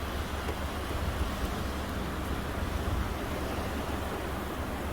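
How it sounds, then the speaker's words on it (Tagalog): A strong river current near a relocation area by Mount Pinatubo rushes in a steady, broad roar of moving water, continuous and loud throughout with no voices. "Lakas ng agos ng river."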